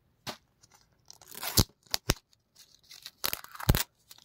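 Blu-ray steelbook packaging being opened, its plastic wrap torn and crinkled in a few short, sharp bursts close by, with quiet pauses between them.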